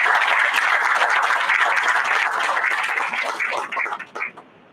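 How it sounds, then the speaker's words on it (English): A crowd at an outdoor groundbreaking ceremony gives a round of applause, a dense patter of clapping that holds steady before thinning into a few scattered claps and fading out. "let's give them a brief round of applause"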